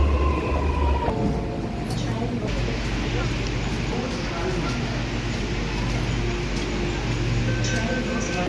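A Sydney Metro train rumbles through Macquarie University station, with a steady broad roar and rattle alongside faint crowd voices in the background.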